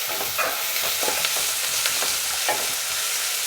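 A garlic mixture stirred while it fries in a pan: a loud, continuous hiss of hot oil broken by repeated scraping strokes of a spoon, close up and without talking.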